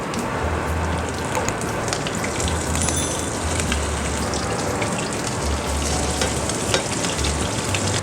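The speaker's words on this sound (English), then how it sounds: "Okay, I think our oil is hot enough. I'm going to take this very carefully. Okay, I think now I can put in the dough." Mashed potato cheese dough sizzles loudly in hot oil, a dense, steady crackling and bubbling that continues throughout with no talking.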